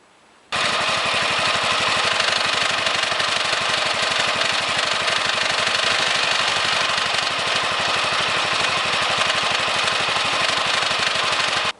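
A lawn tractor engine starts up and runs steadily at a constant pace, loud and close, with a continuous mechanical drone, while its hydrostatic transmission is being re-initialized after an oil drain and filter change; no talk.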